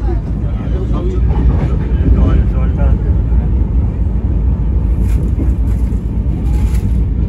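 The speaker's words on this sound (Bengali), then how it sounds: "ট্রেন এসে পৌঁছালো আমাদের প্রথম হল্ট সাঁতরাগাছি।" A train pulls into Santragachi station on the Howrah to Digha line with a loud, steady, close rolling rumble throughout, and voices are faintly audible beneath it.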